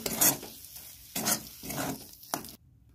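Boiled red lentils stirred in a pot over the stove to dry off the water, with a few scraping strokes and a soft sizzle before falling silent.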